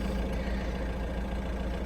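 A 2013 Renault Scenic minivan engine idles steadily and smoothly, a close, continuous low hum with no other noises over it for the whole stretch.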